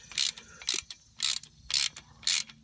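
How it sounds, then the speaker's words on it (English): A ratchet wrench snugs a short 10mm bolt through a plastic part on a 2010 Nissan Versa during ABS sensor replacement, giving five close, crisp bursts of clicking in an even back-and-forth rhythm. "Put your 10mm bolt back in it. It's not very long, you don't have to over tighten it."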